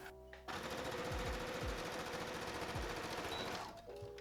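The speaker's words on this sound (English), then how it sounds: "I'm just going to be folding over the edge once and folding it over again and just stitching across it all the way down." Sewing machine stitching straight down a double-folded sundress hem, a dense steady whir lasting about three seconds with a few low thumps, close and fairly quiet.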